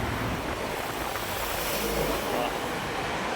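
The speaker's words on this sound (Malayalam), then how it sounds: "നല്ല കാറ്റുണ്ട്" Steady, broadband rushing of wind across an open space among workshops in Ajman, UAE, constant and fairly loud throughout, with no voices.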